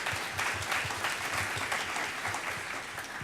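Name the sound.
applause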